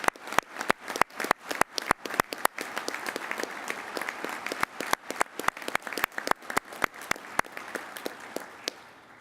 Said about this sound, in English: I know it would mean a lot if you gave them a round of applause right now